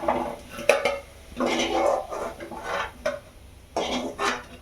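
Fried tamarind for puliyogare powder being scooped from a pan onto a plate: repeated metal spoon scrapes and clinks against cookware in several short bursts, close and fairly loud, with no talking.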